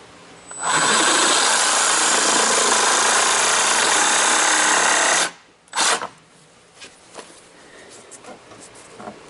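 A cutting disc trims a car bumper with a loud, close, high grinding whine that runs continuously for about five seconds. It stops abruptly, then gives one short burst.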